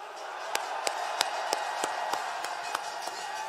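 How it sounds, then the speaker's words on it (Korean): A crowd at an outdoor speech rally in a station plaza applauds the parents' and grandparents' generation. Sharp, rhythmic claps sound at a steady pace over a faint wash of crowd noise, heard from some distance. "뜨거운 박수를 한번 보내주십시오"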